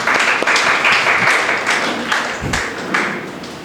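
During a Sunday church service the congregation claps loudly and in uneven bursts, many hands close by, with a few thumps among the claps.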